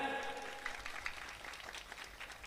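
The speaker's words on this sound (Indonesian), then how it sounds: "Tepuk tangan." An audience claps in steady, moderately faint applause that runs the whole way through, with a voice trailing off at the very start.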